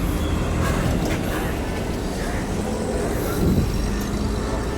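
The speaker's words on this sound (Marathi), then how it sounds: "माफ करा गाड्या येतात मध्ये मध्ये." Traffic on a busy street near Nariman Point, Mumbai: a continuous loud roar of passing cars and buses with low engine rumble and tyre noise, swelling briefly as a vehicle goes by close.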